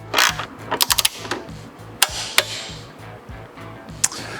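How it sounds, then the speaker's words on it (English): A torque wrench snugs a stock bolt into the muffler hanger bracket on a Harley-Davidson Pan America slip-on muffler install, with a clicking ratchet rhythm, a few sharp metallic clacks and taps over a low mechanical hum. "tighten down our stock bolt into the hanger bracket and then torque it down to 15 foot-pounds of torque"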